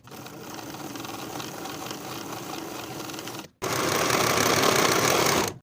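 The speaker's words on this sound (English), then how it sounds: "Sew this seam with a 5/8 inch seam allowance, finish the raw edges, and press the seam up toward the top of the pocket." A sewing machine stitches a pocket seam on elastic-waist women's pants with a steady, close mechanical whir. It pauses briefly and then resumes at a faster, louder pace.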